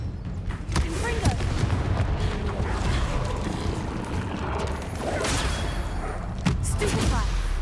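Confringo blast spells cast in Hogwarts Legacy, a dense barrage of booming explosions and crackling impacts under continuous game combat noise, with a voice speaking briefly.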